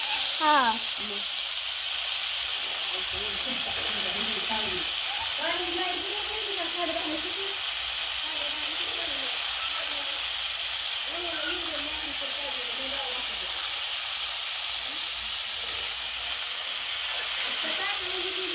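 Chana sukka frying in a kadhai gives a steady broadband sizzle throughout, with voices talking over it.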